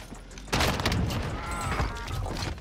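Rapid full-auto bursts from an AA-12 shotgun in the video game Warzone, a dense run of booming shots lasting about two seconds, loud and close.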